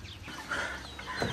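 Chickens, including Japanese breed hens, cluck softly at close range in a short burst with no speech.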